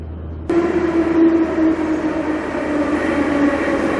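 A Tbilisi, Georgia metro train rumbles along with a steady, droning hum and whine that starts abruptly and carries on evenly, close and fairly loud.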